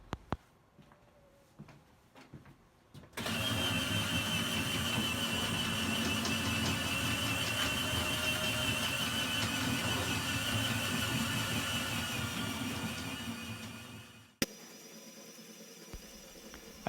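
Winch motors on a homemade box truck bed lift run with a steady, loud mechanical whine for about eleven seconds, then stop abruptly. Faint clicks come before it starts and a brief thump follows.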